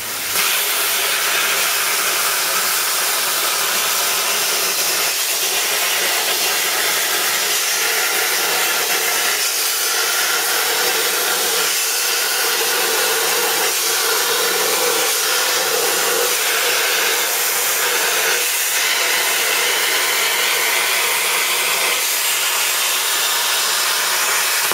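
A plasma cutter cuts a freehand half-circle shape in metal plate, giving a loud, steady, hissing roar that runs unbroken for the whole stretch with slight wavering, with no talking over it.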